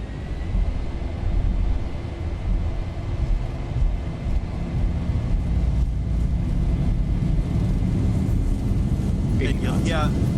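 Boeing 737-800 jet engines in X-Plane 11 spooling up to full takeoff thrust, a steady broad roar with a faint whine, joined near the end by a rising warbling tone.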